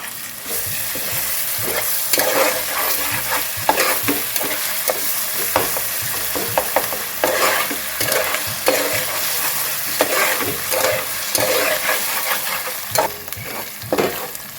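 Green chilies and ginger garlic paste fry in hot oil for a crab curry, giving a steady close sizzle broken by frequent scraping stirs, with no talk.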